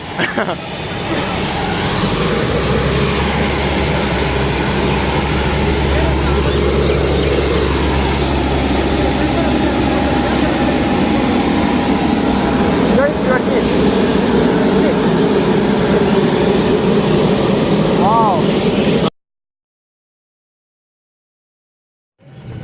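Propeller airliner engine droning loudly and steadily at Toliara airport in Madagascar, a broad continuous roar with people talking beneath it, cutting off abruptly near the end.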